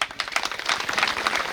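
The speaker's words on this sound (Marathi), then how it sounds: "सर्वांना टाळ्या वाजवून स्वागत करायचं आहे." Audience at a community gathering applauding to welcome the chairman of the event, a steady wash of many hands clapping, fairly dense and moderately loud throughout.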